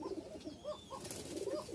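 A male Mujala pigeon with heavily feathered feet coos repeatedly at close range, a series of low, rounded throaty notes in an uneven rhythm over faint room background.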